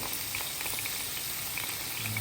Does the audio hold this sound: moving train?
no